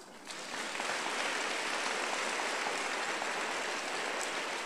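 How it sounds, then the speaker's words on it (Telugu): A church congregation applauds together during a Telugu Christian sermon, a dense, steady wash of clapping that swells quickly and holds evenly throughout, with no speech. "మీకు మీరు చప్పట్లు కొట్టుకోండి."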